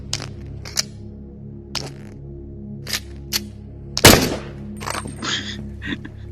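Gunfire in the VR shooter Into the Radius: several sharp, separate shots spaced irregularly, with one heavier, louder blast near the end, heard over a quiet game background.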